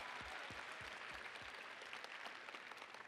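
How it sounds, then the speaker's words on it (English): An audience at a secondary school event gives a round of applause: dense, steady clapping that carries through the whole moment, with a few low thumps near the start. "How about another round of applause for the Summerland crew"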